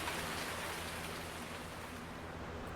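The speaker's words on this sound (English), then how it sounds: "But finally I got some rain to find out." Steady rain falls over a hay field on a forest farm, a dense, even hiss of drops holding at a constant level throughout, with no voices or other sounds.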